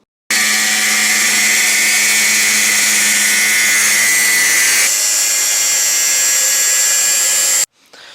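A power tool cuts straight through a stainless steel turbo pipe on a Renault Mégane 3 RS, a loud continuous whine holding for about seven seconds with a slight pitch shift midway, then stopping abruptly.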